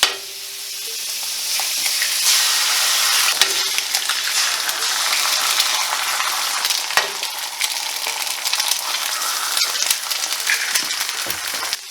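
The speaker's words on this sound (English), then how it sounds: "Throw your garlic on, get your butter back, throw your eggs on." Garlic, butter and eggs fry on a hot hibachi griddle in a steady loud sizzle, with scraping and clinks of a spatula over the crackle.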